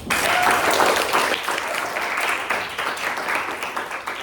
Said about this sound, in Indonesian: Applause to your friends.